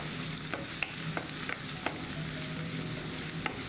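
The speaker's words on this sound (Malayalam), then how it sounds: "അതിൻ്റെ കൂടെ തന്നെ 3 അല്ലി വെളുത്തുള്ളി വളരെ ചെറുതായിട്ട് അരിഞ്ഞതും കൂടി ചേർത്ത് കൊടുത്തിട്ട് നന്നായിട്ട് വഴറ്റിയെടുക്കാം" Chopped onion and garlic sautéing in hot oil in a pan, a soft continuous sizzle with intermittent scraping taps of a spoon stirring, fairly quiet and close, no talking.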